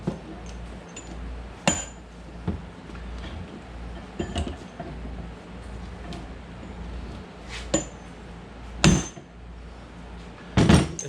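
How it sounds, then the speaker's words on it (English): A dead blow hammer striking a stuck Mazda RX-8 axle, several sharp, close metallic whacks spread unevenly over the stretch, a couple landing in quick pairs, over a faint background hum with no talk. "Let's see if the dead blow can get it done."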